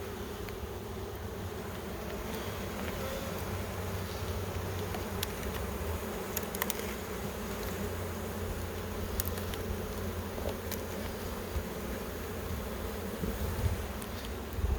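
Honey bees in an open national hive give a steady, dense buzz throughout, close and even, with a few faint clicks of frames being handled.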